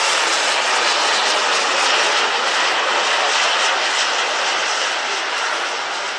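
A 66% scale BD-5J radio-controlled model microjet flies in a synchronized two-plane demonstration, its jet engine producing a steady, loud roaring hiss that holds throughout and eases slightly at the end.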